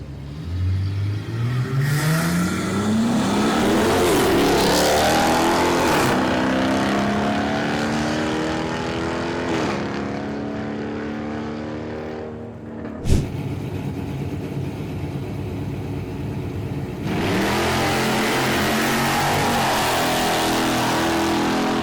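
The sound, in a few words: Dodge Challenger RT 5.7 drag racing run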